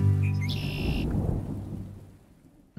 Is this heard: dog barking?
no